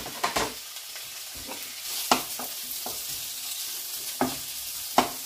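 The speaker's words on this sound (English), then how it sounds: "So now that the pan is hot, add the chopped bacon." Chopped bacon fries in a hot pan with a steady, close sizzle, broken by several sharp utensil knocks and scrapes as the pieces are broken up.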